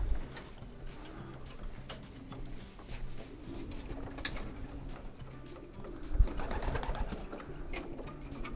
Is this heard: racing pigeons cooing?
yes